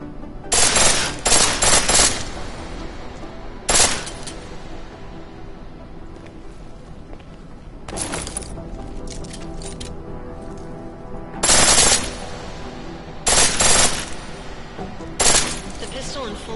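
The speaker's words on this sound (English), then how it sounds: "The pistol in full auto will take down targets fast, but it'll burn through your ammo." Pistol in full-auto mode in Deus Ex: Mankind Divided rattles out in several short, sharp bursts spaced apart, loud against a quieter game background with a voice talking between them.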